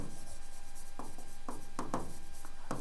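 A marker or chalk scratches across a board in short, close strokes and taps during a classroom explanation of work function, repeating irregularly over a steady background hum.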